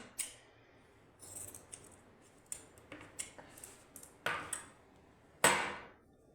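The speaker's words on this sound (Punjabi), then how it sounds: "ਇਹਦੇ ਦੋ ਟੁਕੜੇ ਕਰ ਲਾਂਗੇ ਇਸ ਤਰ੍ਹਾਂ ਵਿਚਕਾਰੋਂ ਕੱਟ ਲਾਂਗੇ ਆਪਾਂ" Scissors cutting fabric in half for puff sleeves on a matching suit, a series of crisp close snips in irregular bursts, the last ones louder, with no talking.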